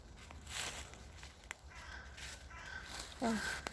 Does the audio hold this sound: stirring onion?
no